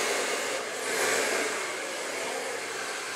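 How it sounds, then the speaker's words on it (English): A handheld blow dryer runs continuously while a brush works through very long hair, giving a steady, close whooshing roar that swells slightly as the dryer sweeps along. "And as the brush moves, the blow dryer moves."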